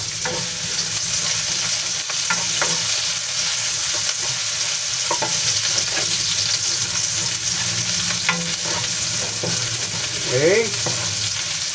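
Onions frying in a pan for a boneless bangus dish, a constant close sizzle with occasional spatula scrapes, and a brief spoken word near the end.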